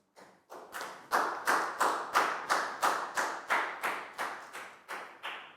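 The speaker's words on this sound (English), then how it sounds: "Big round of applause for Net" Classmates clap in unison for a student in a Year 4 maths class, about a dozen slow, evenly spaced claps rising together and holding a steady rhythm, close and fairly loud, with no talking.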